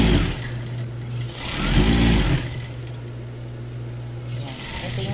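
A sewing machine stitches the side seam of a school uniform blouse, its motor whirring steadily throughout with a louder burst partway through, while someone talks over it.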